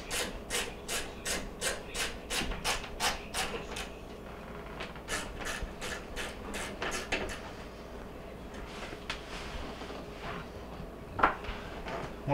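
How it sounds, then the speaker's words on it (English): A short ratchet fitted with a screwdriver tip backs out screws on a KitchenAid oven, giving rapid rhythmic clicking strokes in several runs separated by pauses, close up with faint scraping between. "I use a short little ratchet with a screwdriver tip on it so that I can access those spots."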